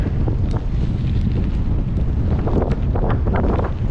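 Strong headwind buffets the microphone on a gravel bike ride in a constant low roar, with gusty rumbling and no voices.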